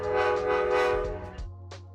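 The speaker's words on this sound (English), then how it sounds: "we got to see the Polar Express leaving for the night" Polar Express train departing for the night, a loud sustained horn blast with rich harmonic tones, briefly dropping, then a short final toot over a low rumble.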